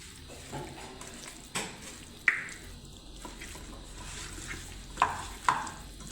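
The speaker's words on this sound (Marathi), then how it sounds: "सगळ्या पीसेसला लागायला पाहिजे म्हणून हाताने मिक्स करते" Hands mixing masala into raw chicken pieces, giving soft squelching and sticky wet smacks with a few sharper slaps, close up in a kitchen with a faint background hiss.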